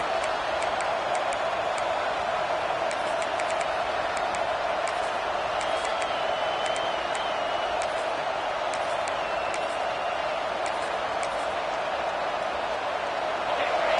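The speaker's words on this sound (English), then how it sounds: "This crowd, full throat, spreading the eardrums and letting them know it's going to be a long day." A football stadium crowd at a Texas game keeps up a steady, dense roar for the whole stretch, with scattered high whistles and sharp clicks rising above the constant wash of noise.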